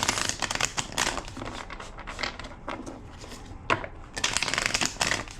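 A deck of cards is shuffled up close, several rapid riffles with short gaps between them, crisp and clattery, with no talking.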